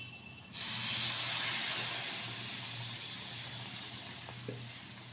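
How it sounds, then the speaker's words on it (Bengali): Liquid milk pours into a jackfruit seed sandesh mixture with a sudden steady hissing, splashing rush that starts abruptly and continues, tapering slightly toward the end. "এখন দিয়ে দিচ্ছি লিকুইড দুধ"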